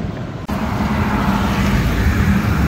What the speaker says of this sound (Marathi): कलरफुल गाड्या जात आहेत.